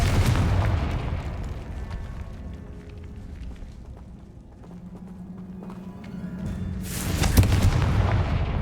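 Explosive Confringo spell bursts in Hogwarts Legacy, with heavy booming blasts at the start and again near the end, separated by a quieter stretch of low rumble and a steady hum.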